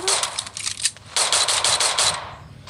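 Rapid bursts of Free Fire video game gunfire crackle in fast volleys, two clustered runs separated by a brief lull, loud and close.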